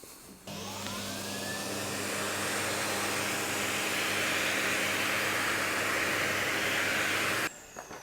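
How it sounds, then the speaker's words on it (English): A household hoover with muslin stretched over its nozzle, used to collect loose gold leaf flakes, starts up and runs with a steady, loud, broadband roar and low motor hum for about seven seconds before cutting off. "turn the hoover off"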